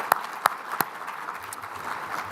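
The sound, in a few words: audience applause for sponsors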